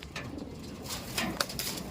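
A pet pigeon cooing close by, a soft repeated throaty coo rising slightly toward the end of a short stretch, with no talk over it.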